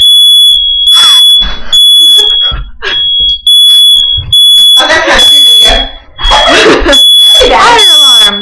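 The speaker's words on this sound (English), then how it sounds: "Fire alarm!" A smoke alarm beeps loudly in repeated bursts, with excited voices talking and shouting over it.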